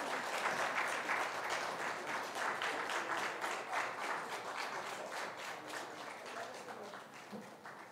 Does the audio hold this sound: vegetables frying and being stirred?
no